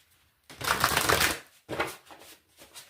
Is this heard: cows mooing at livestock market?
no